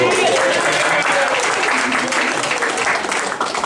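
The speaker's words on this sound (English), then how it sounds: "Give her a big round of applause." Wedding guests break into loud, sustained applause at a reception, a dense wash of clapping hands close by that carries on evenly before easing slightly at the end, with voices mixed in.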